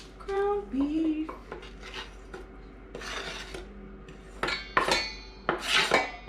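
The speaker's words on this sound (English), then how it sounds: "This I'll scrape into my ground beef." Chopped onion scraped off a board into a bowl of ground beef for homemade meatballs, with several short scraping strokes and light clinks of utensil against the dish, close up and fairly quiet.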